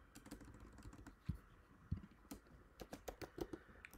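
Rapid, quiet typing on a computer keyboard while writing a swap method in code, steady clicking with a few sharper key strikes, close and without speech.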